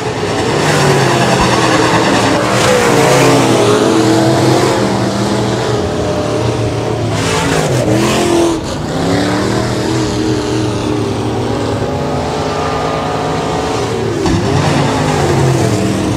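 B-Modified race cars at Rapid Speedway roar past in a heat race, a continuous loud engine drone with swelling passes and pitch shifts as cars circle the track.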